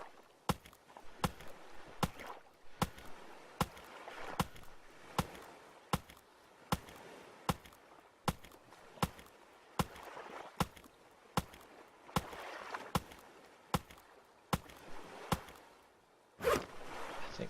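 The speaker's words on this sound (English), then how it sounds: "So we'll just go cut down this tree." Repeated axe chops on a palm tree in the survival game Stranded Deep, sharp close thwacks at a steady rhythm of about one per second over a faint ambient bed, ending with a heavier crack near the end.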